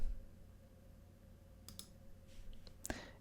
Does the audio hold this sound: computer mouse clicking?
yes